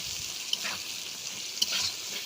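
Onions fry in a pan with a steady bright sizzle, stirred with two soft scraping strokes, close and continuous with no talk.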